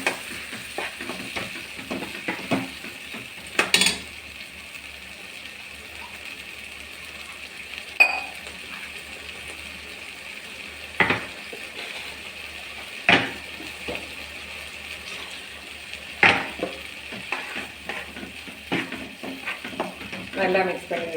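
Ground masala paste is stirred in a frying pan for pepper chicken semi gravy, with a faint steady sizzle broken by intermittent spoon scrapes and clinks against the pan over several seconds.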